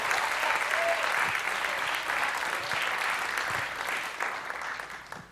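A church congregation applauds steadily during a celebration service, a dense, continuous wash of clapping that holds at an even level throughout, with faint voices mixed in.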